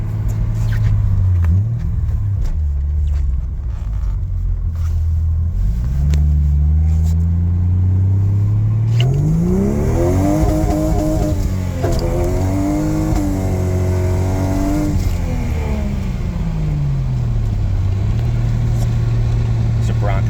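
A Jeep Comanche with a swapped Vortec 4200 engine drives through snow, its close, loud engine rising and falling through repeated revs and gear changes, with a voice talking over the rumble.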